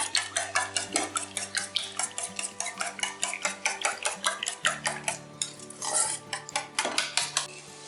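Eggs beaten with vegetables, salt and chilli powder in a bowl for a pizza omelette, a fast, even rhythm of close metallic clinks and taps of a utensil against the bowl, with no voices.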